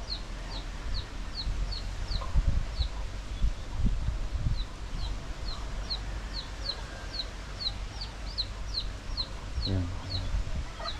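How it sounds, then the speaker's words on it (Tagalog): A wild black chicken in the rural Philippine countryside gives many short, high calls in a quick, uneven series, with low outdoor rumble and some talk around it. "Ngayon siya guys, yung itim na manok."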